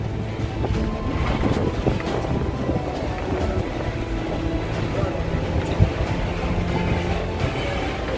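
A Kochi Water Metro boat moving across the water, with a steady low engine rumble mixed with wind buffeting the microphone and splashing water throughout.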